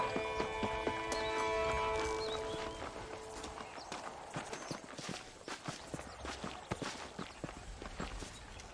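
Horse hooves clip-clopping in the Red Dead Redemption video game, a steady walking rhythm of close, distinct hoof strikes that follows a brief stretch of other game sound.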